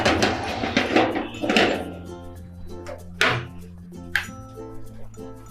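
A baking tray of cookies is set into an oven, giving a couple of short, dull metallic thunks over steady background music.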